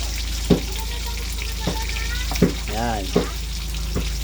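Tilapia frying in a pan gives a steady sizzle with occasional pops and stirring clatter, while a voice talks briefly over it.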